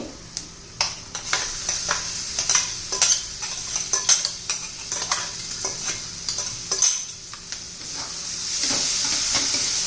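Ridge gourd bharit, made with coarsely ground ingredients, is stirred and mixed in a hot pan, giving steady scraping and clinking strokes over a continuous close sizzle, with the frying hiss swelling toward the end.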